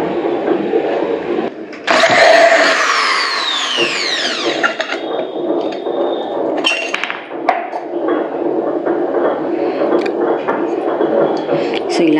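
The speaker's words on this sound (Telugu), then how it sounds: "సో నా దగ్గర ఆల్రెడీ చిన్నది డ్రిల్లింగ్ మిషన్ ఉందండి." A small drilling machine bores holes in perfume bottles being turned into plant pots, giving a steady whirring drone with a bright, rising whine early on and shifting bursts of grinding as the bit works through each bottle.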